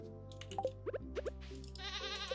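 Goats bleating on a Stardew Valley farm: a few short, high wavering bleats repeat over a steady background music bed, fairly clear and alone without talk.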